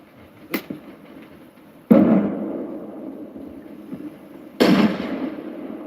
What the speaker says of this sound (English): See if I can get a grenade over this roof.